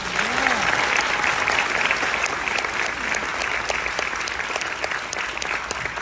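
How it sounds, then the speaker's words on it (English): Sustained applause from a theater audience at a civic event, dense clapping throughout, loud and continuous, with a brief whoop near the start. "Let's give a healthy round of applause for our fearless leader, borough president, champion of the people, Donovan Richards."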